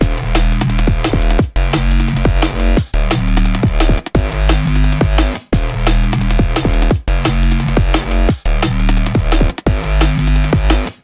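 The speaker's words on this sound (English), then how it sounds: "we're doing a Serum layer today with a fat bass amp sound on top of it" A fat Serum sine-wave bass runs through a free amp plugin and plays a driving, repeating line under punchy electronic drums. The mix is loud and continuous, with no speech.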